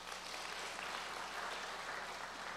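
Faint, steady applause from a seated class audience in a lecture hall, clapping for themselves as a continuous soft wash with no talk over it.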